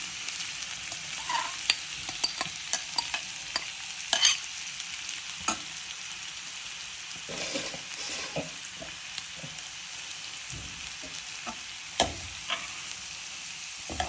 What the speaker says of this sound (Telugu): ఇదే నెయ్యిలోకి మనం ఇలా తురిమి పెట్టుకున్నటువంటి క్యారెట్ మొత్తం వేసేస్తున్నాను